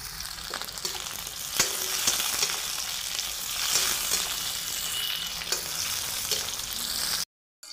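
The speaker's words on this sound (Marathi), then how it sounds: "हे देखील याच्यात घालून याला मी फ्राय करून घेणार आहे तेलासोबत" Two tomatoes frying in hot oil with onions in a pan, a continuous close sizzle broken by sharp clicks and scrapes of a spatula stirring, ending in a brief silence.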